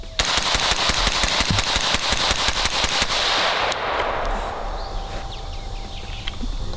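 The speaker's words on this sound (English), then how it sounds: "So let's go ahead and just shoot a couple more here" Carbine fired through an LMT ION suppressor, a rapid string of about twenty sharp, close muffled shots at a fast, even pace for three seconds, followed by quieter ambient noise.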